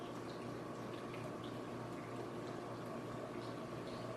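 Wine gurgles softly and continuously through an aerator as it pours, a steady low bubbling wash heard fairly faintly without speech.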